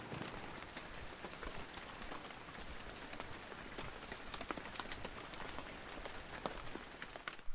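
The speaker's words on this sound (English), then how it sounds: "Cue some nice B-roll of water falling on a canal." Steady rain pattering on water and hard surfaces, a dense even hiss of drops with no voices, continuous throughout.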